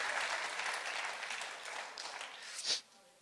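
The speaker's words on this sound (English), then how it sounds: "Someone clap your hands for the Lord." A church congregation claps for the Lord during a sermon, a soft, steady wash of many hands that continues for about three seconds before fading.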